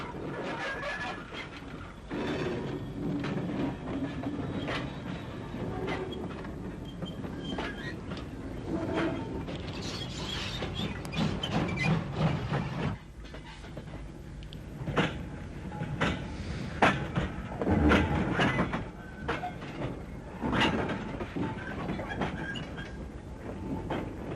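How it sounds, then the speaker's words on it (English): A steam locomotive shunts wagons in the railway sidings at Newry Edward Street in Ulster, with clanking couplings, rolling wheel clatter and sharp metallic knocks coming in uneven bursts over a rumbling background. "this demonstration of the art of shunting was provided for the camera of John Laird in the sidings at Newry Edward Street"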